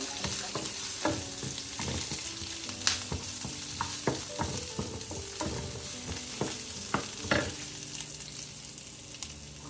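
Onion fries in tempering oil, sizzling and crackling steadily in a pan, with repeated sharp clinks and scrapes of stirring throughout.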